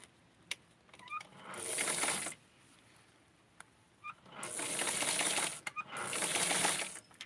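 Sewing machine stitching lace down onto a Francie doll dress, heard as two long runs of close mechanical whirring with a short burst before them and faint clicks between.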